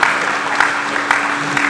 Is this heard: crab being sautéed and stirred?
no